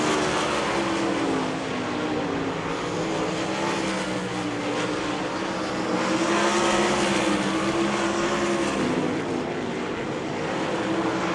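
Sprint cars roar around a dirt oval on the final lap of a heat race, a dense, loud, continuous engine howl that swells and fades slightly as the pack passes.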